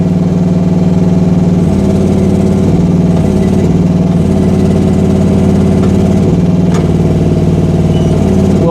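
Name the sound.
Rippa R10 mini excavator engine running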